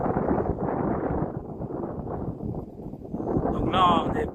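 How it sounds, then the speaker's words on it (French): Cool wind blowing across an open red-earth mining landscape in the wild far south of New Caledonia, a steady rushing buffeting on the microphone throughout, with a voice speaking underneath. "il y a un vent frais là qui me parcourt, qui fait beau"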